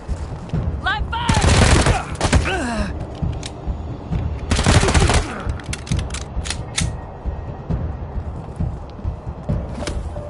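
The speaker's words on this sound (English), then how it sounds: "Live fire!" Bursts of rapid gunfire crackle through a PS4 shooter, with two loud sustained volleys, scattered single shots and short rattles in between, and faint game voices beneath.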